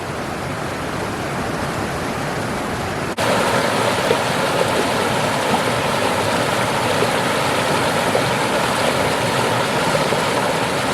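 The Bealey River in Arthur's Pass National Park flows with a steady, broad rushing roar close by, getting louder and fuller after a brief shift partway through, with no voices.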